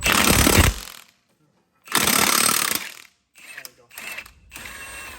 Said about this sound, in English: I'm gonna use my impact